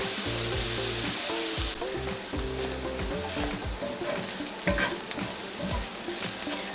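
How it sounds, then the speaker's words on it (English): Onions fry in a pan with a loud, constant sizzle that never lets up, joined by stirring clatter and a tonal hum from a kitchen appliance that drops partway through. "I'm going to continue to cook these onions until they're all tender and smelling good"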